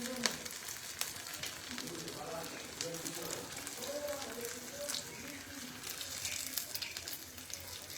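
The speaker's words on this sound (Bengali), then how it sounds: "এটা ভাজা হয়ে গেছে," Paneer lollipops fry in hot oil, giving a steady, soft sizzle throughout with a voice talking over it.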